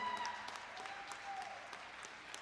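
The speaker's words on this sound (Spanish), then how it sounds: "Un aplauso para todas las compañeras, por favor." A crowd claps steadily for a couple of seconds, the applause moderately distant with a faint voice in the background.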